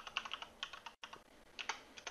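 Quick bursts of close computer keyboard typing while entering a folder name, light clicky keystrokes in two short runs separated by a brief pause.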